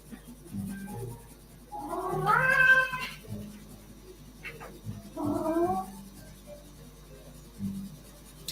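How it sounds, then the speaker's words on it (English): A house cat meowing indoors, two drawn-out, strained meows a few seconds apart over a low room hum and faint soft scratching. "If she makes one of those painful sounding meows, I'm going to have to get up and let her out."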